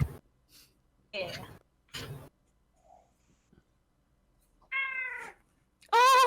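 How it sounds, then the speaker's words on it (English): A house cat meows twice near the end, the second call loud and drawn out, after a few short bursts of talk and rustling in an indoor room. "Was that an actual meow?"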